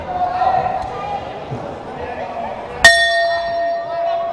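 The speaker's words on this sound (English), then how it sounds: "That is the bell for round number 3" A boxing ring bell at a Thailand versus Philippines bout in Bangkok strikes once, a sharp bright clang that rings on with a sustained tone over crowd noise and a commentator's voice.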